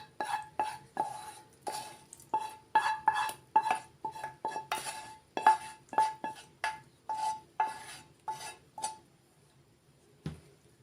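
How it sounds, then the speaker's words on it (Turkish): Lentil köfte mixture being combined with cooled sauce, heard as a run of sharp, rhythmic clinks and taps, one about every half second, close and clear, then fading out near the end. "Bunu karıştırayım güzelce. En iyisi elimle karıştırayım."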